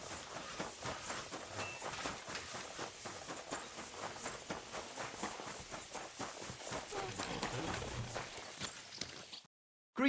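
Horse hooves clip-clop steadily across ground in Kingdom Come: Deliverance II, a dense rhythmic patter of footfalls held at an even loudness and fairly close, stopping abruptly just before the end.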